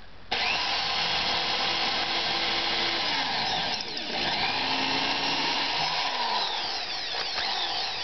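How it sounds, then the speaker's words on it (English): A power drill bores a hole for a ceiling hook during a bathroom fan install, its motor whining steadily and close for several seconds, dipping briefly midway before carrying on under load. "in order to put the hook in, we need a drill"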